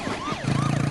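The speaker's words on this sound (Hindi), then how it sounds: "ये पुलिस सायरन सुनाई दे रहा है।" A police siren wails with rising and falling tones, steady and fairly close, with traffic rumble underneath.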